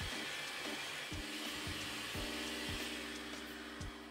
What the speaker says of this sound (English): using a hand or stand mixer on a medium high speed, cream that together for 2 minutes until it's lighter in color